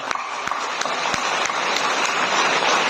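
A crowd of schoolchildren claps together in a school hall during an awards ceremony, a dense steady patter of applause with a few sharp louder claps standing out.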